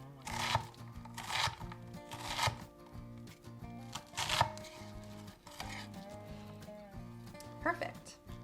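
A knife chops and dices an onion on a cutting board for a one-pan shakshuka, giving a series of quick, crisp, faint taps in bursts. A voice talks softly underneath.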